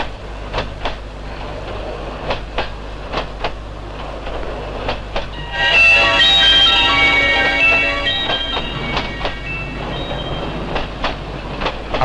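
A train carriage running on rails gives a steady loud rumble with rhythmic clickety-clack wheel beats, and a brief squealing swell in the middle.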